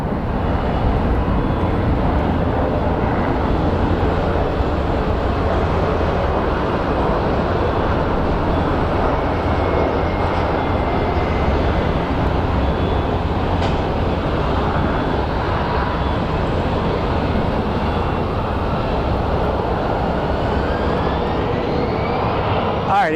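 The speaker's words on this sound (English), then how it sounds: "this is a Boeing 737 MAX 8, I believe" A Boeing 737 MAX 8 at Phoenix Sky Harbor International Airport produces a loud, continuous jet engine roar that stays steady for over twenty seconds.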